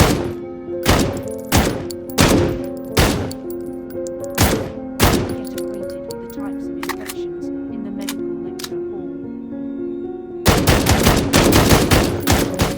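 M14A rifle fired in an Arma-style video game, a series of sharp, loud single shots at a steady pace, then a pause with fainter background sounds, followed by a dense burst of rapid fire near the end.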